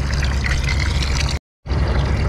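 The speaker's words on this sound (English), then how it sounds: "we are filling the bucket a little bit with water" Water pours steadily into a plastic bucket, a close, continuous splashing and gurgling that stops briefly for a moment before resuming.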